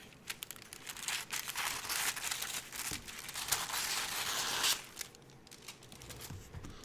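A piece of material for a painting project is cut, giving crisp crinkling and tearing rustles in quick irregular bursts, close and fairly quiet, that stop near the end and leave faint scattered ticks.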